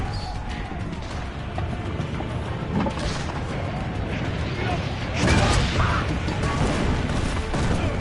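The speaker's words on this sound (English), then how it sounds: "Not very good cannons if they just fall apart like that." Cannons falling apart and crashing in Assassin's Creed Brotherhood, a dense stream of rumbling crashes, thuds and mechanical clatter with a heavier burst of smashing toward the end, under game noise and talk.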